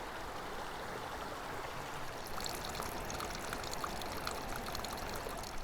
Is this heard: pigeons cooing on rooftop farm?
no